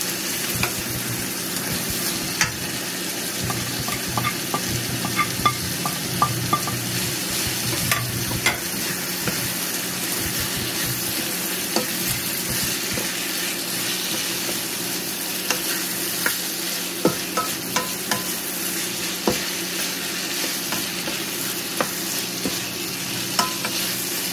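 Ground meat frying in a pan for tortang Kapampangan, a continuous soft sizzle broken by frequent clicking spatula stirs and scrapes, close and moderately quiet, no talk.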